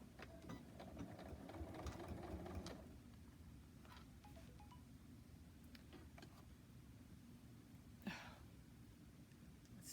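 A sewing machine back stitches a silicone trivet, stitching for a few seconds and then stopping, with faint handling sounds and a soft click afterward.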